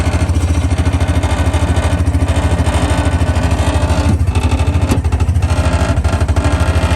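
An Axis 750 Crew 4x4 UTV engine runs loud and close in a steady pulsing throb, with metallic rattling clattering throughout and no talk.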